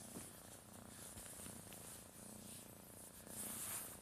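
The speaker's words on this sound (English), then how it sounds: "I've got a kitten just purring and sticking pins in me" A kitten purring close by, a soft rhythmic rumbling purr that continues faintly throughout with slight rustling.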